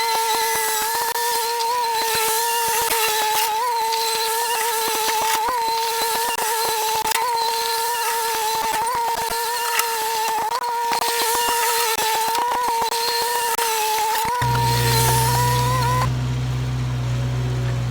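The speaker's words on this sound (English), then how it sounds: "I think with the bucket on the skid steer, I can kind of smush them and roll off the husks" A skid steer works its bucket over black walnut husks, its engine and hydraulics droning steadily and close with a constant whine, rough crunching bursts scattered through it, before the machine cuts off near the end.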